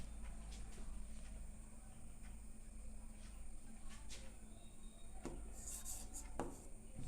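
Chalk or marker scratching on a board during a maths lesson on Euclid's division algorithm, with short faint strokes over a steady hum of room noise.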